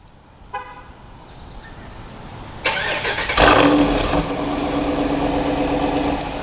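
A 2024 Jeep Wrangler Rubicon 392 with active exhaust gives a short horn chirp on locking, a sharp close tone near the start. A louder burst follows and a steady engine rumble continues to the end.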